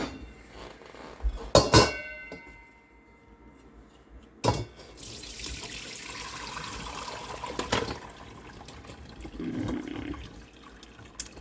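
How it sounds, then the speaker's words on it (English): Homemade bone broth is strained through a grill basket into a container, with liquid splashing and pouring in uneven bursts between clanks of metal and bones shifting, all fairly close. "So I'm just gonna strain this broth right into there."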